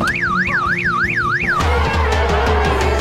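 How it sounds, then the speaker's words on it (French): A loud electronic alarm wails in rising and falling sweeps, then abruptly switches to a harsher, rapid pulsing pattern. "il déclenche une alarme de voiture"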